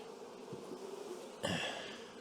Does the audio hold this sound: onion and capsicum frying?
no